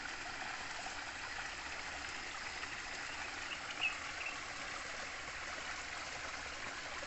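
A stream flows steadily outdoors with a soft, continuous hiss and gentle burble. The sound is fairly quiet and even throughout, with no voices.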